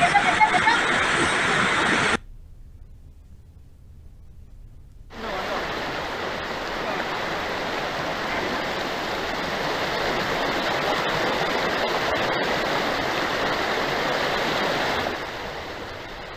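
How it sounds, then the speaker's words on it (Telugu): Rushing water of a hill stream overflowing after heavy rains, a broad continuous roar that drops out briefly early on, then returns and holds steady to the end. "భారీ వర్షాలకు పొంగి పొర్లుతున్న కొండవాగుతో"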